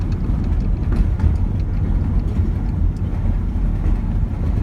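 A Toyota Celica driving down a small residential street, its steady low engine and road rumble continuous and close throughout, with no talking.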